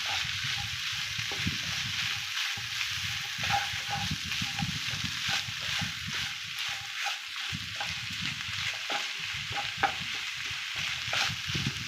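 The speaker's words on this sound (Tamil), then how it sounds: "நல்லா கிண்டி விட்டுக்கலாம்." Sura puttu, shark mince, stirred in a hot pan: soft, rhythmic scraping strokes repeat over a continuous close sizzle of frying.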